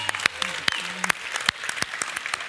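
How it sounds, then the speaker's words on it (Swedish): Applause for a chef who has just finished his fish dish at a live cooking competition, scattered sharp claps from the crowd over a low murmur of voices and tonal sounds. "En applåd för Daniel Melön."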